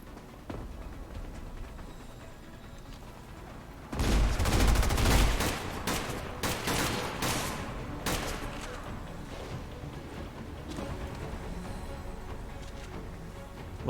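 Bursts of rapid gunfire from an XCOM 2 battle, a loud volley of shots after about four seconds, then scattered shots continuing at lower level.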